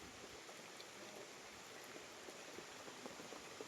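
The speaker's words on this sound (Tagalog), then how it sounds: "inabot na po kami ng ulan" Rain falls on a rural farm property with coconut, mango, rambutan and lanzones trees and a creek nearby, a soft, even hiss of drops heard faintly and continuously with no voices.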